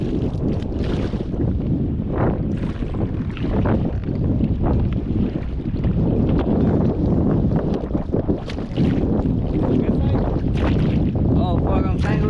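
Strong gusty wind buffets the microphone while kayak fishing on Braunig Lake, a constant loud rumble with water sloshing against the hull, and a voice talking briefly now and then.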